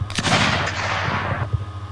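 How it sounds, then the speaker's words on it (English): A gunshot sound effect fires as a sharp, loud burst at the start, followed by a long rolling echo tail that slowly fades, with a small thump near the end. "And then you do basically a gunshot or whatever you want."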